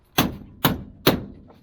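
Three sharp, evenly spaced hammer blows strike a screw at an angle to knock its head off during work on a 1953 Buick interior. Each close, solid knock rings briefly and is followed by a faint fourth tap.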